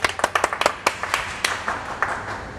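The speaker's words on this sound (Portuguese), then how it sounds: "Palmas, palmas, palmas pro Disseu, palmas, palmas" Several people clap their hands on a Brazilian talk show episode about restoring a pickup truck. Sharp, quick, irregular claps come close and loud at first, then thin out into a few scattered claps.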